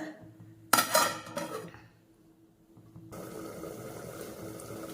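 A lid set onto a pot of chicken gravy lands with a sharp metallic clank and a brief rattle, then a quiet gap before a soft steady simmering hiss returns.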